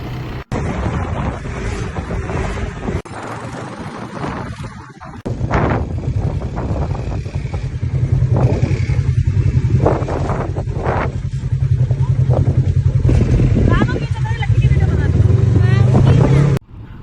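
A single-seat bike ridden over desert sand dunes on a Dubai desert safari gives a steady, loud engine drone mixed with heavy wind buffeting that grows stronger toward the end.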